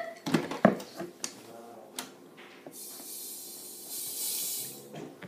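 A few clicks and clatters, then a soft high-pitched hiss of carbonation gas spraying into soda for a couple of seconds, close by and fairly quiet.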